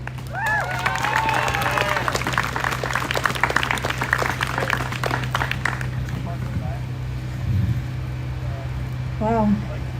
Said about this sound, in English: Please, a round of applause for Vicky.